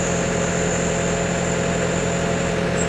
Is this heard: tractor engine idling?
yes